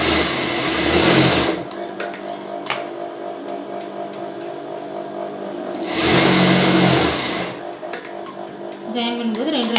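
Sewing machine stitching the side seams of a bra with a half-inch allowance: two loud, fast whirring bursts of stitching at the start and middle, separated by quieter stretches with clicks and handling noises.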